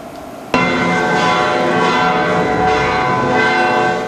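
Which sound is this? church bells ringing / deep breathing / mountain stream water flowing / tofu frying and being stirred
church bells ringing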